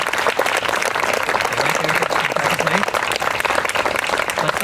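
Loud, sustained applause from a large crowd at a ribbon-cutting ceremony, dense clapping that holds steady from start to finish.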